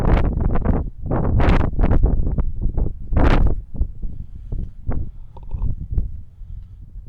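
Strong wind buffeting the microphone outdoors beside a stone arch bridge over a creek, heavy rumbling gusts that swell and drop in uneven bursts, loud and close with no talking.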